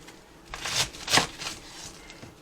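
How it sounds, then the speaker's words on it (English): A knife cuts through a head of cabbage on a kitchen board while fried cabbage is being prepared, giving a few short, crisp crunching slices close up, with quiet pauses between them. "So I'm going to cut this part off."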